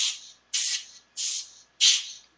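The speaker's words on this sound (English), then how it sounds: "I've taken with that aerosol and I've blown out anything that's relatively loose on there" An aerosol air duster blows dust off telescope optics glass in four short, sharp hissing bursts spaced at an even rhythm, loud and close with silence between them.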